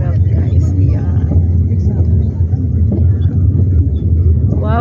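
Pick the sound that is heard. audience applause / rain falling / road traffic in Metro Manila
road traffic in Metro Manila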